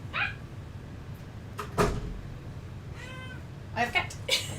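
A house cat meows indoors, giving a short cry near the start and a clearer, drawn-out meow near the end, with small thumps and household noise in between.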